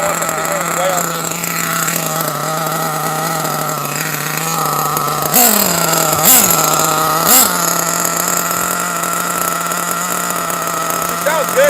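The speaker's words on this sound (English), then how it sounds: "It's idling good." Nitro engine of an HPI D8S RC buggy idling close by with a steady, buzzing drone, a few brief throttle blips rising in pitch midway, then settling back to an even idle.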